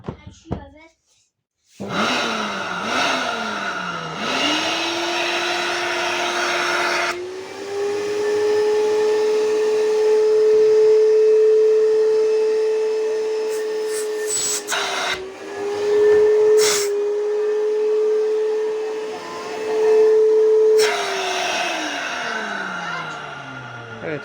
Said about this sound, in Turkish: Elimi kapadığımda ve çektirdiğimde herhangi bir şekilde yani ittirme olmadan güzel vakumluyor.